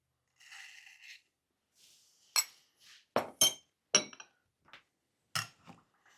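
A spoon adds a tablespoon of sugar to a mojito glass, starting with a soft granular hiss and followed by a series of bright, close glass clinks spaced irregularly with silence between them.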